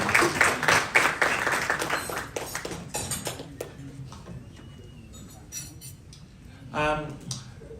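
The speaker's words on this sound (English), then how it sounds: "So please give them a big round of applause." Scattered applause from a modest crowd at an anniversary celebration at Taumeasina Island Resort, Samoa, strongest at the start and thinning out into a few claps, with a voice speaking briefly near the end.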